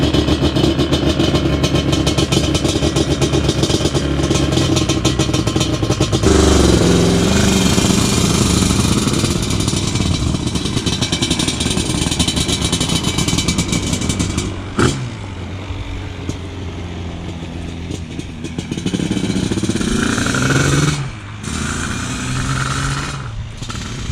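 A Yamaha Banshee 421 quad with a 4 mil stroke accelerates hard from 0 to 60, its loud two-stroke engine revving close by, with brief drops between gears and the note easing off near the end.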